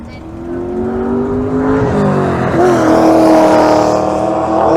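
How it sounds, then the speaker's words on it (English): A powerful V8 engine in a BMW E36 estate roars past nearby out of a chicane at Goodwood Motor Circuit, its pitch rising and shifting as it accelerates, loud and throaty throughout. "There's a BMW E36 Estate just coming out of the chicane."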